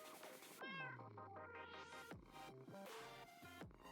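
A cat meows repeatedly in a fantasy video game, a long falling meow followed by several shorter ones, heard clearly over game music with no talking.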